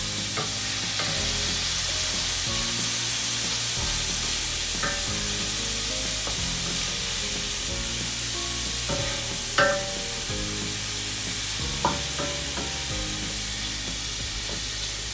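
Fish and shrimp cooking in a pan for paella, a constant loud hissing sizzle with repeated stirring scrapes and a couple of sharp knocks of a utensil against the pan.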